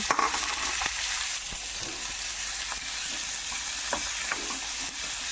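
Mustard seeds and vegetables frying in ghee for poha: a dense, continuous hissing sizzle, close and even, with occasional soft stirring scrapes and no voices.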